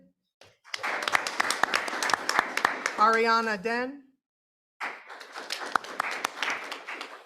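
Scattered clapping from the audience at a school board meeting greets each student as a name is read over the microphone, the hands tapping steadily beneath the speech and resuming after a short silence.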